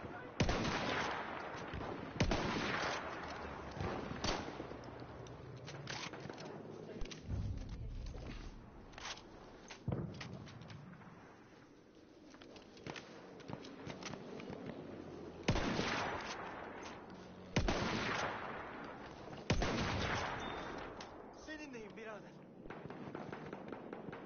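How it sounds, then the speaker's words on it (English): Pistol gunfire rings out in a video game battle, repeated sharp cracks and bursts scattered over a steady rumble of other shots and explosions, with voices talking throughout. "I'm using my pistol."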